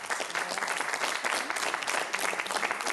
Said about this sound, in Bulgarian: Аплодисментите при кацане.